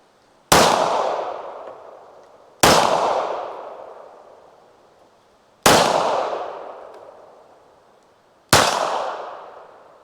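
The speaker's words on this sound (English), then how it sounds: "up next we have a Ruger LCP. This is chambered in 380." Four loud, sharp shots from a Ruger LCP .380 pistol ring out at irregular intervals, each striking steel targets with a metallic clang that decays slowly, and no talk between them.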